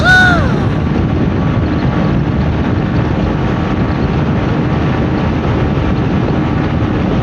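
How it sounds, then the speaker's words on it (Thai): Strong wind buffets the microphone in a loud continuous roar while riding a Yamaha MT15 motorcycle, a short whistling tone at the very start fading into steady rushing noise. "คือตอนนี้ลมแรงมากผมแล้วผมจะปิวแล้วนะครับผม"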